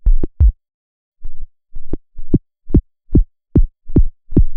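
Serum synth tone with downward-saw pitch modulation, short thumping bursts repeating in an uneven rhythm, each dropping in pitch like a rough, not-yet-finished kick drum, loud and isolated.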